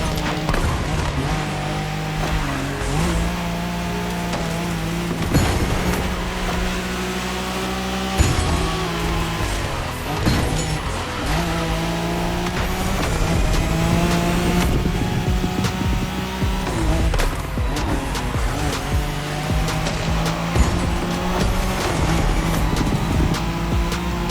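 A Nissan Skyline race car's engine in The Crew Motorfest drones steadily at high revs through shifting gears, loud and continuous for the whole stretch, with occasional sharp knocks and no talking.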